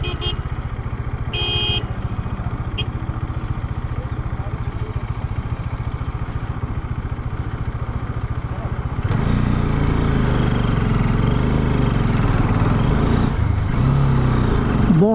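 A motorcycle engine runs steadily on the road to Baltal during the Amarnath Yatra, a throbbing low drone that grows louder and rougher partway through, with wind noise around it.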